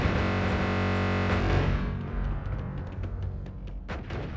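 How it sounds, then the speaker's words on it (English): Rapid explosions from a wand in the game Noita roar as a loud, distorted wall of blasts, then thin out into scattered crackling pops and bursts that fade somewhat toward the end. "It's just an explosion happening every single frame."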